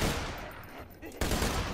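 Quick bursts of video game gunfire in Borderlands 2, moderately loud, a dense stretch, a brief dip, then renewed shooting.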